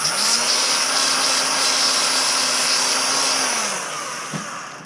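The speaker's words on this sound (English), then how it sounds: "I'm going to sand this down right here to get the." A handheld power sander or rotary tool whirs steadily and close up while smoothing a homemade magnetic GoPro mount, then winds down near the end with a faint knock.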